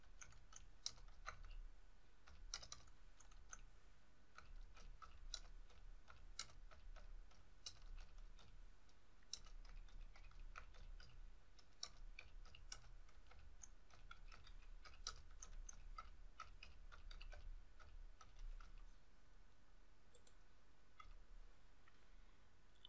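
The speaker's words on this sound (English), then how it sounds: "So let's type a message." Quiet, irregular clicking of computer keys typing a message, soft and close, with short pauses between bursts and no voices.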